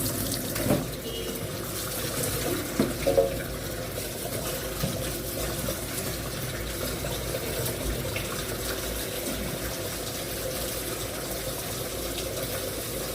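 Greens being washed under a running kitchen tap, a steady close stream of water splashing into the sink, with a few handling knocks early on.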